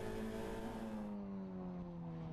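Audi and BMW touring race cars at a GTC race in Cape Town, a loud engine note held high then gradually dropping in pitch as the cars pass, continuous for a couple of seconds.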